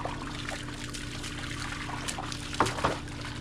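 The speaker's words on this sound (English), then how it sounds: "What I do is I fill the pool up" Water pours steadily to fill a backyard pool, a constant trickling stream heard close and moderate in level, with a couple of brief louder splashes near the end.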